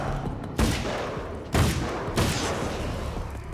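Rifle gunfire in the video game Alan Wake's American Nightmare: three loud, sharp shots spaced roughly a second apart, each with a short decaying tail over a steady rumbling background.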